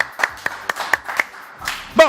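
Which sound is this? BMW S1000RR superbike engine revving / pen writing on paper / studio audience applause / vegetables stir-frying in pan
studio audience applause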